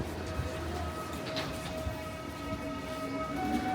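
An electric train rumbles steadily at a Moscow station, a continuous even drone with a faint mechanical hum running through it and no clear breaks.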